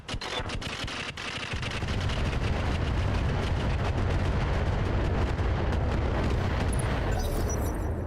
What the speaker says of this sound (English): coming here with a Conquistador is probably the best way to offset this missile barrage here